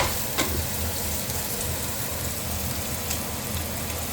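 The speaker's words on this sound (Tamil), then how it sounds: "வெங்காயத்தை நல்லா பொன்னிறமாக வதங்க விடணும்" Onions sautéing in a pan for a kanava (squid) curry, a dense continuous sizzle and crackle with a couple of faint stirring clicks.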